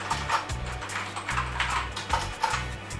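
Rapid, steady keystrokes on an AULA Reaper aluminium-frame gaming keyboard, the clicks close and fairly loud with a low hum running underneath and no voice.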